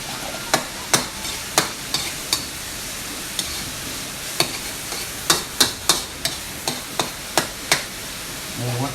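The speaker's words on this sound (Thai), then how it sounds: "เอาคั่วเนาะคั่วหมูให้มันสุกก่อน" Pork being stir-fried for fried rice, with a utensil striking and scraping the pan in quick, repeated clacks at an irregular rhythm over a steady sizzle, close and clear, with no talking.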